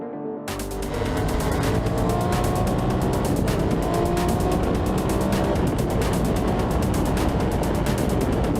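A Ducati 916 motorcycle engine roars continuously while riding, a loud, steady, close exhaust drone that starts abruptly and holds with rapid pulsing throughout.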